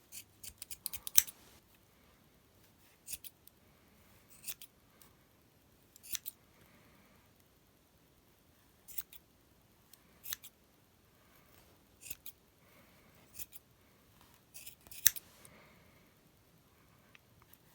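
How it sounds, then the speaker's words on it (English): Sharp scissors snip through wool yarn in about a dozen crisp cuts at irregular intervals, close up, with near quiet between them. "The sharper your scissors, the better"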